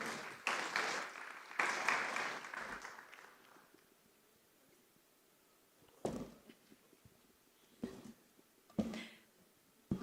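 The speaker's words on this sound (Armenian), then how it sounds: "խնդրեմ դիմավորեք բոլոր ծափահարություններով" An audience gives applause to welcome a speaker at a conference in Yerevan, Armenia, a fairly distant, moderate burst of clapping that fades out over a few seconds, followed by near silence with scattered thumps and footsteps.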